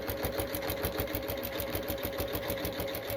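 A sewing machine stitches a jelly roll rug, running at a slowed pace with a steady motor hum and an even, rapid pulse of needle strokes, close and alone.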